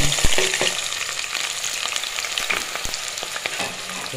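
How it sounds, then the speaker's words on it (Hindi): Sliced onions sizzle steadily in hot ghee in a cooking pot, a dense close crackle with a few sharp clinks of a stirring spoon against the metal. "अभी प्याज मैं डालूँगी इसमें"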